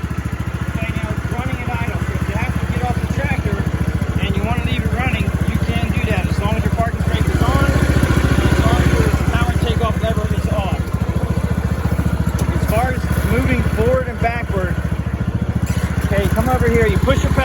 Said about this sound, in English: Okay, now it's running at idle.